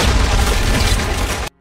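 A grenade going off in a detective drama, a dense, loud rumbling blast sustained for about a second and a half before cutting off abruptly to silence.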